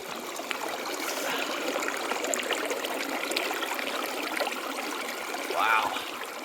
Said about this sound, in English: there's probably water flowing underneath right there